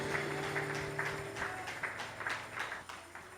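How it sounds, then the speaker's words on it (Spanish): Congregation clapping in rhythmic unison during a church worship service, steady regular claps at moderate distance with a faint sustained musical tone underneath. "Puede darle un fuerte aplauso a nuestro Rey."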